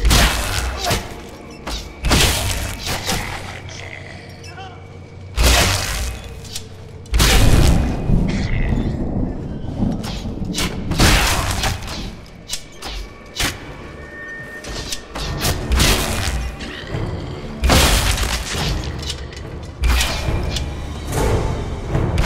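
Repeated heavy booms and thuds of incoming fire explosions in the fantasy action game Hunted: The Demon's Forge, loud and close, arriving in irregular bursts with crashing debris and some voices between blasts.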